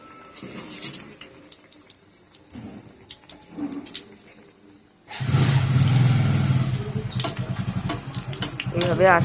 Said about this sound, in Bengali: এবারে পরোটাগুলোকে আমি ভেজে নেব